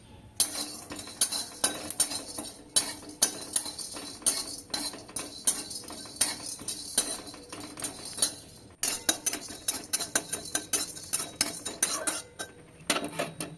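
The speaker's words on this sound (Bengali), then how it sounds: "কড়াতে এক চামচ গোলমরিচ এবং এক চামচ জিরে ড্রাই রোস্ট করে নেবো" Black pepper and cumin being dry roasted in a wok, heard as a busy, continuous run of close metallic clinks and scrapes from a spoon against the pan, with no sizzle and no speech.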